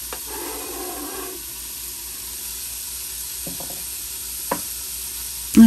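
Vegetables for a red sauce sizzle in a pot over medium-high heat, a soft steady frying hiss with a few clanks and stirring knocks near the end, no talking.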